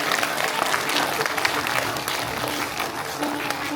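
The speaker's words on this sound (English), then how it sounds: "Loud clapping for Poonam ma'am getting the second." Loud sustained clapping from a school audience at a Founders Day celebration honoring a teacher, a dense, even roar of many hands that holds steady throughout.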